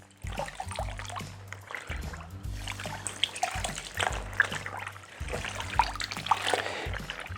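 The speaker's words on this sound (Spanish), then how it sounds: "el primer paso sería introducirla en un barreño con agua" A cotton t-shirt is pressed and sloshed into a basin of water, giving soft trickles and splashes in repeated bursts, close and fairly quiet, with low thumps between.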